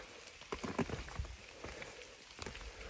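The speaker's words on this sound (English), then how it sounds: "It's raining right now." Rain falling outside a ski lodge at Smuggler's Notch Ski Resort in Vermont, a faint, continuous hiss of drops with scattered soft patters and no voices.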